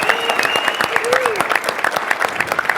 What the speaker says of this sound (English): We practice the clapping and the noise